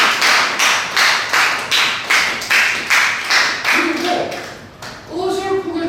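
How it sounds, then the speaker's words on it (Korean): An audience at a university lecture on art and philosophy claps in a quick steady rhythm of loud hand strikes, then the applause trails off as a voice starts speaking. "알았어. 박수."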